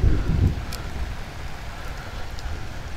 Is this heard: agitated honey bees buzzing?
no